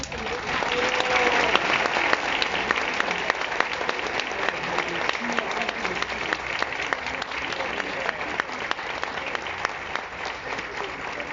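Strong applause at a talk about Pancho Villa, many hands clapping in a loud, sustained stream with a few sharper individual claps, crowd murmur and voices underneath.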